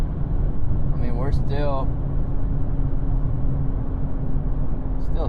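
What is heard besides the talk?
engine with a little throttle, warming up the transmission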